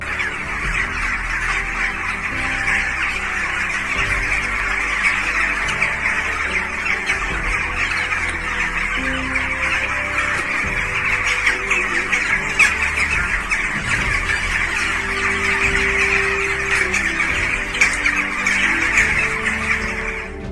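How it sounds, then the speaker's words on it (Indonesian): A flock of birds circling in a dark sky keeps up loud, dense squawking and harsh calls, steady and continuous throughout with no pauses and no voices. "sekelompok burung terlihat mengitari langit gelap sembari mengeluarkan suara"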